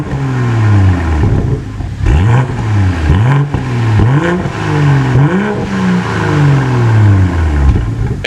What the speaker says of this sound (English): I think the battery's making it rev a little weird